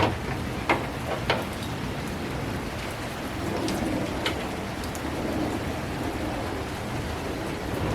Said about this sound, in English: It's raining like crazy out here.